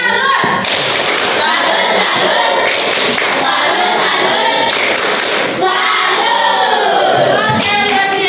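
A group of participants in a teacher coaching workshop claps for a presenting team, bursts of hand claps mixing with overlapping voices and cheering across a busy room.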